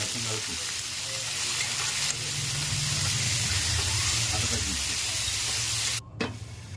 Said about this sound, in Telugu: రెండు పెద్ద సైజు టొమాటో ఐదారు పచ్చిమిర్చి వేసుకొని లో ఫ్లేమ్లో పెట్టుకొని వీటిని బాగా మగ్గనివ్వాలి